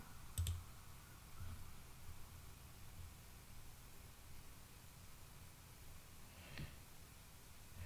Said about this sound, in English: Then I click on confirm.